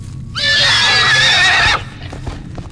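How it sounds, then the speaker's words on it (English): A demon horse in a horror video game lets out a single loud, close, shrill neigh lasting over a second, followed by faint rustling. "Demon horse?"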